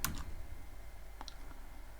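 A computer keyboard being typed on during Python coding, a few light, close clicks spaced apart: one at the start and a pair a second later, with quiet room noise between.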